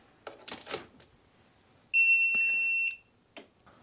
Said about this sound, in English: it just beeped to let us know that it does have power